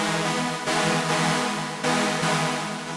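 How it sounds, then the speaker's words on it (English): Soft sawtooth pad patch in the Serum synth with its filter opened all the way, sustaining a bright, full chord that swells and restrikes twice, loud and alone with no talking. "It's just called soft pad in Serum, and it sort of sounds like this with the filter opened all the way."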